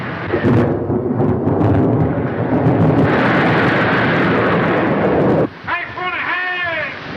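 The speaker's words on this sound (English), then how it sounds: "There's a storm coming." Heavy rumbling thunder from a thunderstorm at sea in an old serial film rolls loudly and continuously for several seconds, then cuts away to a voice speaking.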